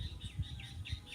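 A sparrow in the background chirps a few soft, repeated high tweets over low rumbling noise, faint and distant, with no talking.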